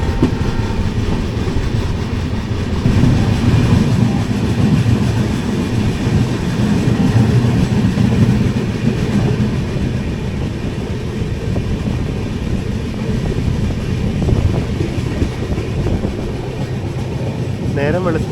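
The 16217 Mysuru-Shirdi Express runs along the rails in a loud, continuous rolling rumble with a rhythmic clatter of wheels on track, heard from on board for the whole stretch.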